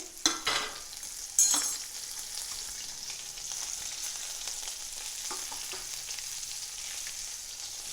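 Green chilies and garlic with carom seeds frying in a pan for a valor bean curry, a continuous close sizzle opened by a couple of sharp clinks and stir scrapes.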